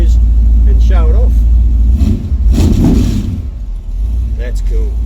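Chev 383 V8 in a show car revving hard, a loud rough roar that swells and dips over several seconds, with people talking over it.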